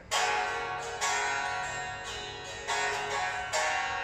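A Sqoe SA100 hollow-body acoustic-electric guitar played unplugged, a few bright strummed chords ringing and decaying, fairly quiet and close.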